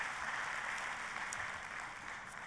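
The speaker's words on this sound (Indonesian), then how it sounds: "Yang setuju kita kasih tepuk tangannya yang meriah buat Tuhan kita." Church congregation applauding after a sermon, a soft, even spread of clapping that continues steadily and sounds somewhat distant, with no speech.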